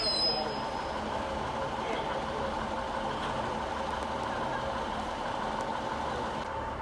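Train slowing to a halt at Carlisle station on the West Coast Main Line, a steady broad rumble of wheels and engine with a brief high squeal at the start, continuous and moderately loud throughout.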